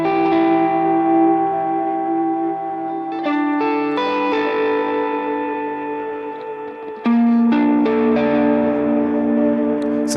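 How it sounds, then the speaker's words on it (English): Electric guitar run through a BOSS GT1000 with reverb, distortion and delay in a stereo rig, sustained chords ringing out with long echoing tails and a few sharp changes, loud and alone. "I'm using the reverb in a more conventional way, but I'm side chaining some distortions, delays, and other effects."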